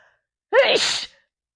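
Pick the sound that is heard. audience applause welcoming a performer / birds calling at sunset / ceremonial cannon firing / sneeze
sneeze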